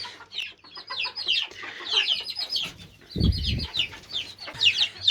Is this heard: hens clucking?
yes